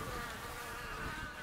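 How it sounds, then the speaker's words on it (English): Bugs buzz around a watering hole in an animated scene, a steady close droning hum of insect wings lasting the whole moment. "There's even bugs buzzing around it"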